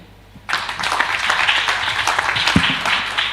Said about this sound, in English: Another hand of applause, please, for the panel.